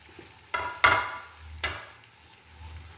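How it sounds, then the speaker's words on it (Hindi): A spoon stirs cut eggplant coated in chaat masala in a pan, giving a few separate scraping and clattering strokes over a faint, quiet sizzle, with no voices. "चाट मसाला डालने के बाद इसको अच्छी तरह से मैं मिक्स करती हूँ"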